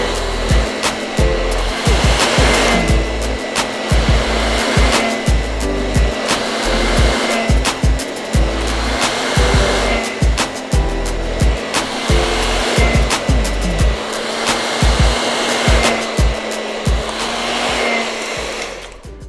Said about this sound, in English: I just finished blow drying Walinda.